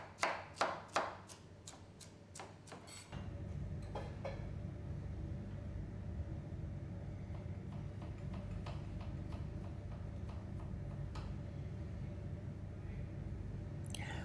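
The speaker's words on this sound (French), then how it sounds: "Taillez les carottes en mirepoix, c'est-à-dire en cubes non parés d'1 à 2 cm de côté." A knife chops carrots into rough mirepoix cubes on a board: a few sharp, evenly spaced cuts at first, then a steady low background hum with occasional softer knocks.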